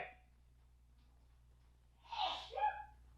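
A single sharp sneeze breaks a quiet room, a quick intake of breath followed by the burst, close to the microphone.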